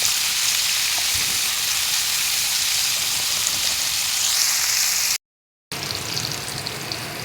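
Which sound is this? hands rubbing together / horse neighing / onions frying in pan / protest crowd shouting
onions frying in pan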